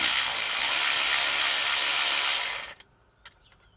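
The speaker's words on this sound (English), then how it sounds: "You can undo the bolts." A power wrench or ratchet loosens bolts on threaded 8mm rods holding C7 HEUI injectors, running in a loud continuous burst for about two and a half seconds, then stopping, followed by a few sharp metallic clicks.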